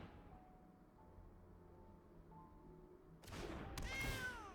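Quiet background hum, then two loud cat meows from a video game near the end, the second higher and drawn out, close and clear.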